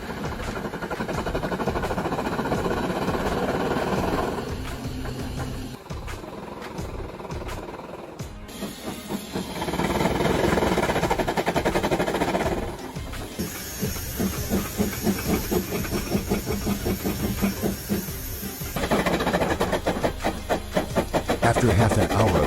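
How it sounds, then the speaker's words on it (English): A 100-year-old steam snowplow train clears deep snow in the Alps, giving off loud continuous hissing steam with mechanical chugging and rail clatter that swells and fades in long bursts. "let's follow the camera and see how this 100-year-old train clears the snow"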